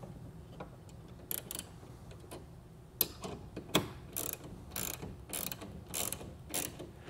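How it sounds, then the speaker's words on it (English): A ratchet with a 14 mm socket tightens the clamps on a Bestop Supertop collapsible truck bed cover fitted to a 2021 Ford. It gives quick, close clicking strokes in short bursts, with no talking. "you'll just need a 14 millimeter socket to tighten it down"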